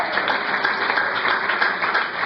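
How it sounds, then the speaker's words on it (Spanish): Congregation applauding in a church service, a steady dense wash of clapping that holds at an even level throughout, close and fairly loud, with no break or talk over it. "Dale un aplauso a Cristo por eso."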